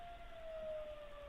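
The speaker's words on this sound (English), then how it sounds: "So they blast the old World War II air horn." An old World War II air horn siren sounds from a fire hall, a faint, distant, steady wail heard alone.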